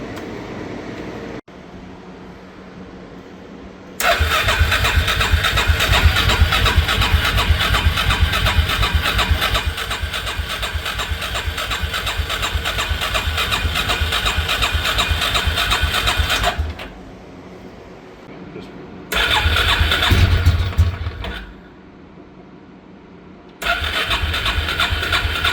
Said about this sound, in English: then try to start the ATV, but it'll take a little while because there's a bowl at the bottom and that needs to fill up with fuel before it'll start